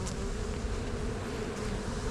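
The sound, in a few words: honey bees around a hive during package install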